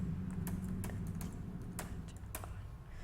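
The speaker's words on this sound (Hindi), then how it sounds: "पूरा ही टाइप करना पड़ेगा, देखते जाइए" Quiet typing on a computer keyboard while entering an Excel text formula, scattered key taps at an uneven pace over a low steady background hum, no voices.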